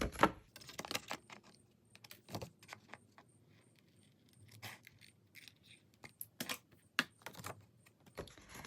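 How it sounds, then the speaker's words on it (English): Scissors snip and trim a paper planner insert, giving sharp, irregular close-up clicks and crisp cuts separated by short quiet gaps, with no talking. "now I have to use my scissors to do the rest"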